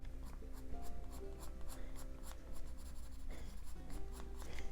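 A colored pencil shades on paper in a steady, faint scratching that runs continuously, with soft stroke pulses and a low background hum.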